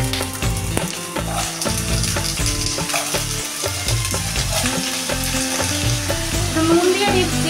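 Potatoes fry in hot oil with a loud, dense sizzle that holds steady throughout, louder than the music playing alongside it.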